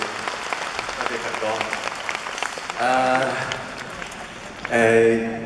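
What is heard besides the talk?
concert audience applause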